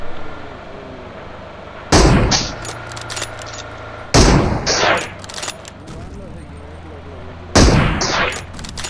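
Three loud bursts of rapid M22 automatic fire in a shooting video game, each lasting about half a second to a second and separated by quieter gaps filled with ambient game noise.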